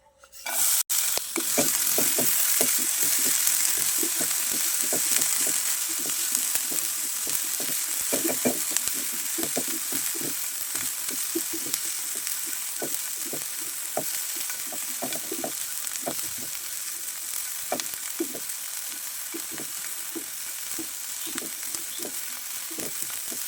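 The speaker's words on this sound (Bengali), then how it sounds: "এখন আমি ফ্রাইপ্যানের ভিতর সেই চিংড়ি মাছগুলো হালকা ভেজে নিচ্ছি" Shrimp fry lightly in a frying pan with a steady, bright sizzle and frequent stirring scrapes, continuous and close for the whole stretch, no voices.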